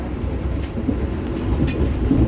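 Taksaka executive passenger train running on rails out of Yogyakarta in the afternoon, a dense, steady low rumble with continuous rolling noise close by, no voices.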